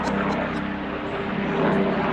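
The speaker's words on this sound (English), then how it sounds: "it wouldn't be an Avon video without a helicopter flying" A helicopter flying overhead near a farm, a loud continuous whirring engine drone that fills the whole moment, steady and close, with no voices.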